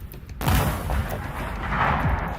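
A single sudden loud gunshot cuts in after a moment of quiet, followed by a rumbling, echoing roll that lingers and slowly fades outdoors.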